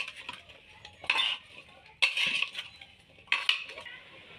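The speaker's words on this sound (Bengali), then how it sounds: "এবার একটু নেড়ে নেব।" Spoon stirring a vegetarian dish in a cooking pot after water and salt were added, three distinct scraping, clinking bursts with quiet pauses between, no talking.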